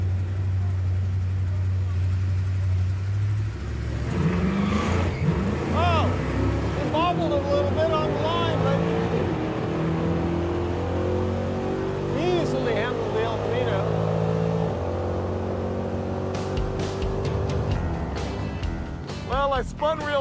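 A Chevrolet Camaro launching off the line on a drag run, its engine rising through rapid revving sweeps and gear changes as it pulls away, loud and sustained, with voices talking over it.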